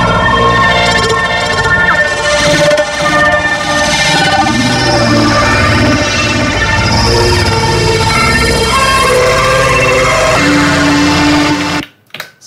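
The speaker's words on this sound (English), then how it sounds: "the sample is slowed down and reversed and like crushed to within its life." A slowed, reversed and heavily bit-crushed sample plays from an Elektron Octatrack, a loud gritty wash of smeared tones that runs steadily, then cuts off abruptly near the end.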